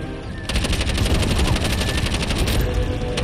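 Rapid automatic gunfire with special ammo in the shooter game Bright Memory: Infinite, a dense sustained burst that starts after a brief lull and keeps firing loud and continuous for about three seconds.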